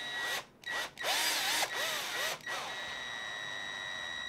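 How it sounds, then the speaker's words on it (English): A power drill whirs in several bursts, winding up and down as it drives a screw into the rear link of a Scx10 II radio-control crawler, with short pauses between runs. "I do apologize if the drill makes a lot of noises"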